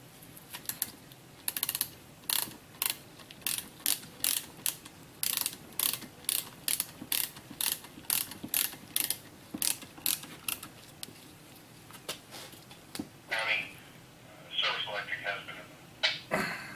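A ratchet tightens the master cylinder bolts on a Saturn SC2, a quick series of sharp clicking strokes in a steady rhythm, with light tool handling near the end.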